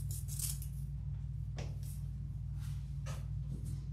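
Scissors cutting off wreath material for a Halloween haunted house wreath, a few quiet separate snips spread over a few seconds against a steady low hum.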